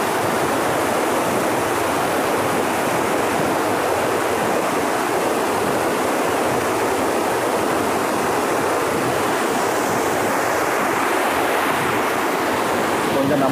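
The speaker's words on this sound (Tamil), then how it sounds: "மலையில் இருக்கிற ஆறுகளில் தண்ணி எப்படி போகுது, அதோட வெள்ளப்பெருக்கு இருந்தால் எப்படி இருக்குன்னு" Mountain river in flood roaring through forest near a village, a steady loud broadband rush of water that never lets up, with no voices.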